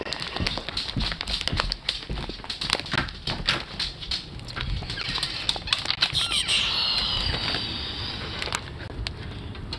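A flock of crows takes off outdoors, wings beating in a dense flurry of soft rustling flaps close by, with a brief brighter whoosh partway through and steady wind-like texture throughout.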